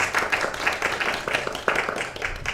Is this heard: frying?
no